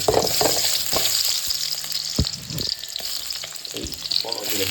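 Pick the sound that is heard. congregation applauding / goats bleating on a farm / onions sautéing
onions sautéing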